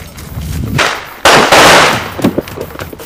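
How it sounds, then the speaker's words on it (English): Gunfire in what sounds like a police or conflict setting, with two loud sharp bursts of crackling shots around a second apart, fairly close and harsh, followed by scattered smaller pops and noise. "Now sound of gun."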